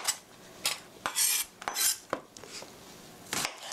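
A knife cuts an onion into 2 cm pieces on a board for chicken tomato soup, giving a series of sharp, close chopping strikes and scraping sounds with short gaps between them.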